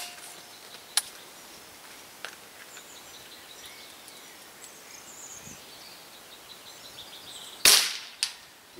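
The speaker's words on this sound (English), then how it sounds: "you can probably hear me hitting the tin cans down there" A Weihrauch HW77 air rifle's shots strike tin cans about 100 metres downrange, heard as a few faint, sharp distant clinks and one louder crack against a quiet outdoor background of soft insect ticks.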